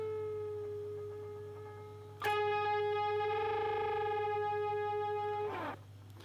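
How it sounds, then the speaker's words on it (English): A distorted electric guitar holds a steady note, then a fresh pick attack rings out and the note bends, sustaining loudly before it cuts off, over a low steady amp hum. "you're just going to play it once and then bend it, pick it again, both strings"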